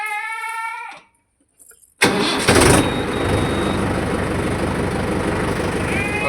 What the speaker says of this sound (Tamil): என்ஜின் ஸ்டார்ட் பண்ணிக்கலாம்.